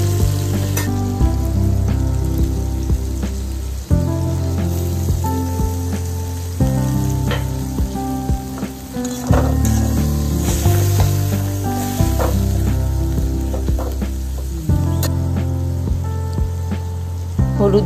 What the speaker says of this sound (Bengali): সর্ষে বাটা দিয়ে নাড়বো